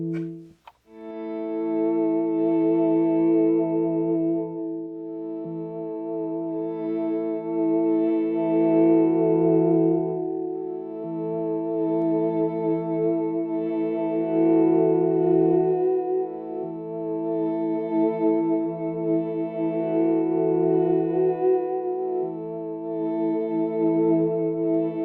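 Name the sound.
Chase Bliss Audio MOOD MK II looper pedal looping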